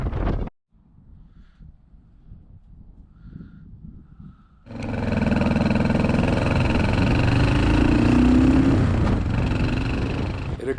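Motorcycle ridden hard through mountain curves near El Salto, Mexico, on El Espinazo del Diablo: after a few quiet seconds of faint rumble, a loud, steady engine roar with wind rush takes over and holds, rising slightly in pitch as it accelerates.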